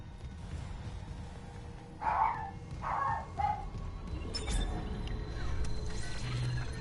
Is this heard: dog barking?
yes